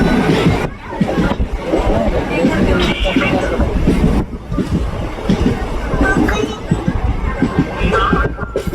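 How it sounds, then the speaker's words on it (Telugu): A train pulling out of a station on a trip to Shirdi, with a steady low rumble and rail clatter filling the clip. Crowd babble and voices carry throughout. "బండి 2:30 బాబు బయలుదేరింది అమ్మ."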